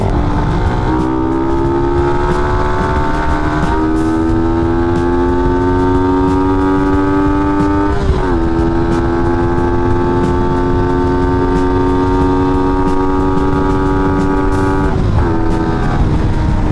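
A Suzuki Raider 150 FI motorcycle accelerates hard toward top speed, its loud, close engine whine climbing steadily in pitch, with brief dips at gear changes.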